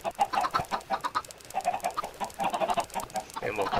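Chickens on a chicken farm in Minecraft cluck in short, repeated bursts at a quick, uneven rhythm, close and moderately loud with no talking.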